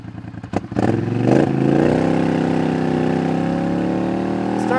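A motorcycle fitted with an aftermarket exhaust revs hard under throttle, a loud, deep, steady engine roar that climbs after a few quick blips and holds strong close to the mic.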